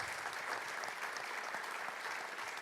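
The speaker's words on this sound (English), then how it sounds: "A big applause for everybody." An audience at a world congress round table claps steadily, a dense, even wash of applause at moderate volume that continues without a break for the full stretch.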